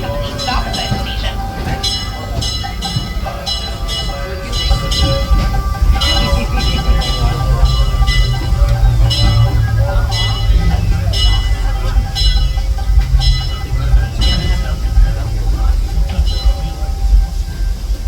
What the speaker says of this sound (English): Just please stay seated until the train comes to a full and complete stop beside the station.